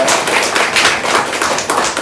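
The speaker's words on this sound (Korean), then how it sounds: "하나님께 영광의 박수를 드립니다." A church congregation at a Sunday morning service claps together in praise, a dense, loud burst of many hands clapping steadily and close, without talk.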